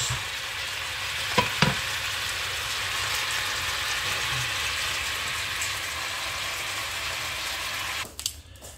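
Oxtail being stirred into a peanut paste and eggplant sauce, a continuous close sizzle and bubbling with a couple of sharp utensil knocks early on and a clattering scrape at the end.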